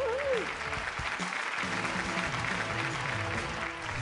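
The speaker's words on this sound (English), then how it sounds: "Can we have a round of applause for the special award?" An awards show audience applauds steadily for several seconds, a dense wash of clapping heard at moderate distance in a large hall.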